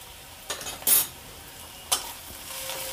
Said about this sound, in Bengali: এবার এইটাকে একটু ভালো করে ভেজে নেওয়া হবে